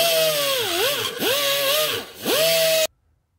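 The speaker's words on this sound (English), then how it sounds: "I'm gonna take my burr and just open up that hole" A burr tool grinds out a hole in a Butler Performance oil pump for a Pontiac engine: a close, loud high-speed whine that dips and climbs three times as it bites into the metal, then stops abruptly.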